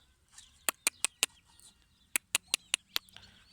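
Two quick bursts of sharp chick peeps, four then six calls in steady rhythm, close by over a faint background, in a village chicken flock.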